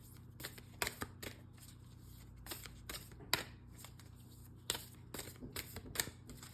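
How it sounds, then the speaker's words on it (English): Tarot cards riffled and shuffled by hand at close range, in quiet, crisp bursts of flicking and clicking separated by short pauses. "Two more shuffles."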